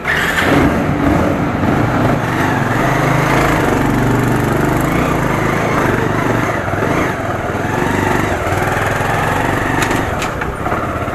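Motorbikes are started and taken out on a street in Manali, their engines running loud, close and continuous, with a steady buzzing drone and slight revving.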